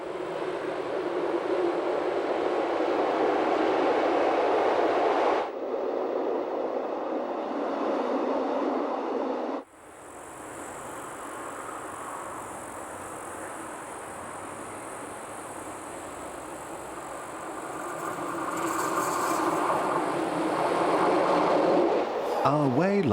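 A Rhaetian Railway train running on the Vereina line through the Landquart valley gives a steady rolling rumble heard from inside a carriage, with abrupt tone shifts as if entering and leaving a tunnel, and a narrator speaking over it.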